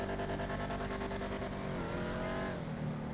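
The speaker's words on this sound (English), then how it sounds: "That's the noise it'll make when you try to double clutch a car that doesn't double clutch." Car engine in a Rockstar driving video game revving and stuttering during a failed double clutch, a loud continuous whining drone with pitch sliding up and down, with no voices over it.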